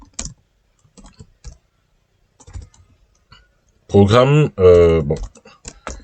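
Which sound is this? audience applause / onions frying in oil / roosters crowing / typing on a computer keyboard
typing on a computer keyboard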